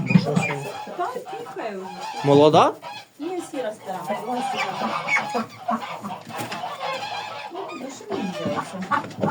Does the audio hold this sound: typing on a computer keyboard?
no